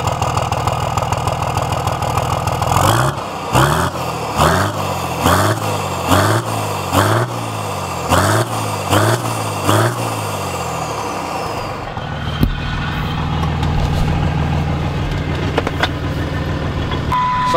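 A third-generation Ram 3500 pickup truck engine revs in a quick series of about eight rising and falling bursts, then settles into a steady, close idle with no talking.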